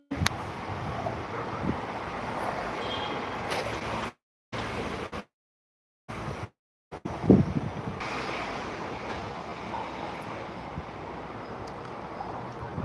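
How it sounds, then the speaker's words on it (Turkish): Steady, broad wind noise buffets the microphone throughout, with a few brief dropouts partway through and a low rumble underneath. "O kadar rüzgar var dışarıda."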